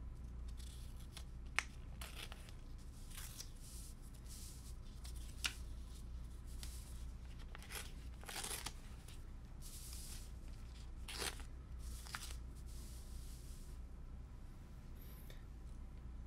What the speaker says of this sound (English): Next, we need to tear at each vertex of the triangle like this.